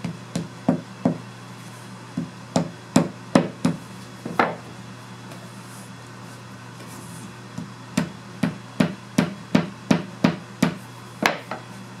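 Hammer tapping a wooden part of a mission style secretary into place: bursts of sharp, close knocks in quick rhythmic runs, loud against a quiet workshop background with a few pauses between runs.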